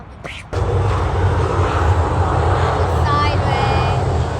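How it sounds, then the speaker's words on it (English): A Singapore Airlines Airbus A350 jet roars past overhead, a loud steady engine rumble filling the whole stretch, with people speaking excitedly over it. "Singapore Airlines A350. What a beauty."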